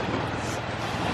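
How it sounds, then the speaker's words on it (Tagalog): Strong sea waves near an island wash in as a loud, dense, continuous roar close by, filling the whole moment with broadband rushing surf and no voices. "Sana naririnig nyo Kabsat kasi medyo malakas yung alon"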